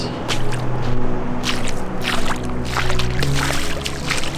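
Hiking boots squelching and splashing through shallow water on a sandy trail, a steady run of wet, sloshing steps close by, with no talking.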